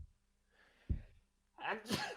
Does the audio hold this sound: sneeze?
yes